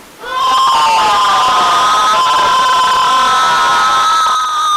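Children cheering and shouting together in school classrooms, a loud sustained chorus of young voices that rises quickly and holds steady for several seconds.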